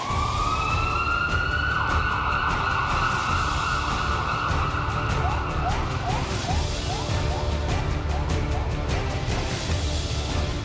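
An ambulance siren wails loudly and continuously nearby, a steady rising tone giving way to rapid repeated yelping sweeps, heard alone without any talking.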